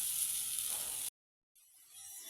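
Spices frying in oil for an egg curry give a steady, close sizzling hiss that cuts out abruptly into silence, then returns more softly.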